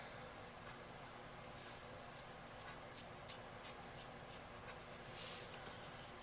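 Quiet, close-up scratchy strokes of Copic markers coloring dark hair tips on paper, short repeated pulls with a light rhythmic tick, faint and steady in a hushed room.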